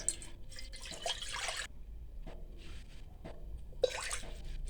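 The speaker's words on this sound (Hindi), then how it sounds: "एक कप इसमें पानी शामिल करेंगे।" Water is poured from a cup into a karahi set over a lit flame to steam singhara, heard as splashy bursts of liquid, with a longer pour at the start and another near the end, close and moderately loud.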